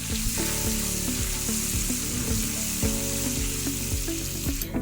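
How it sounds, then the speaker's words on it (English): Popcorn kernels stirred in a large pot, heard as a steady loud sizzle with a scraping, rattling stir repeating roughly every half second underneath, close up. "Now you're going to keep stirring like I'm doing until the popcorn, or let me say the corn, starts to pop."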